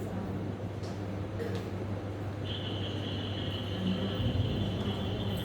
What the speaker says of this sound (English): these are sounds of frogs and probably also some insects